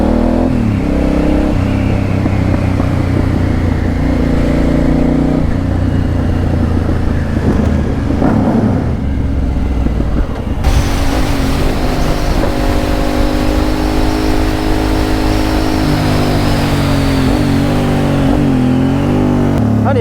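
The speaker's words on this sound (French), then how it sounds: "La ligne est bien chaude, elle pète là." Suzuki SV650S motorcycle on a hot exhaust line, revving loudly and continuously with engine roar rising and falling and throttle blips; partway through the tone steps up into a sustained higher rev before settling.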